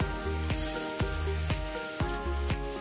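Shark fish (mushi) pieces frying on a flat griddle over a wood-fired clay stove, a continuous close sizzle with a faint regular ticking under it.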